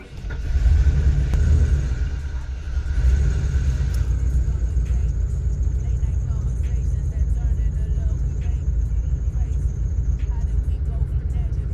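A 1992 Ford Four Winds RV engine cranks, catches and settles into a steady low idle rumble, close and loud, with a voice speaking over it.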